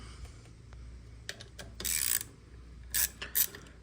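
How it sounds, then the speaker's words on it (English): A ratchet wrench loosens a bolt on an engine housing during a 12-valve Cummins swap into an OBS Chevy truck, heard as a few quick clicking bursts with metallic clinks between them, up close and with no speech. "I gotta take one more bolt off."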